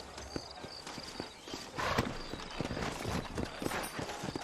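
Steady clip-clop of horse hooves walking on hard ground in the video game Red Dead Redemption, close by, with a faint hum of background ambience.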